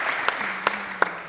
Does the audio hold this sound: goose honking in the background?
no